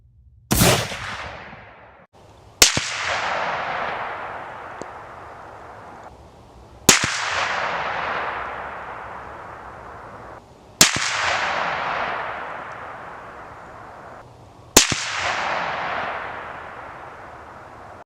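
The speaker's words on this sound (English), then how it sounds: "I'm going to take another shot or 2 here, just try to get zeroed in on that dot" Stevens 334 rifle fired at a target, five sharp loud shots spaced a few seconds apart, each followed by a long decaying echo rolling across open ground.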